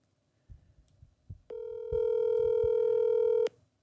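A phone call tone plays after a few soft taps: a steady electronic beep holds for about two seconds, then cuts off abruptly, with no one talking over it.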